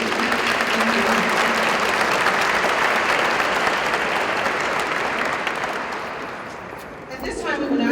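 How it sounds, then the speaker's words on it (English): Loud, dense audience applause at a school district hall of fame ceremony, steady clapping that tapers off near the end as a voice begins speaking. "we want to give you a round of applause for your excellent work"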